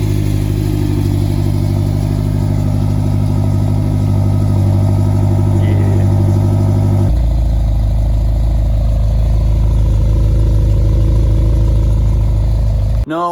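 A BMW X6M engine idles loud and steady with a deep, even hum, shifting to a lower, heavier drone about halfway through before cutting off at the end.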